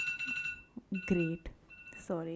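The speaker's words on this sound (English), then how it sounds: "that's my alarm to wake up." A wake-up alarm sounds as a series of loud, steady electronic beeps, repeating in short bursts while a person speaks over and between them close by.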